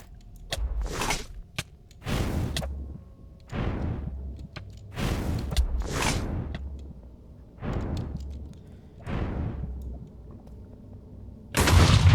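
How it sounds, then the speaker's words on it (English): Explosive blasts from a creeper explosion spell cast in the Minecraft modpack Craftoria, a series of about seven loud booming bursts spaced one to two seconds apart, with the heaviest blast at the end. "I was casting a creeper explosion spell at him"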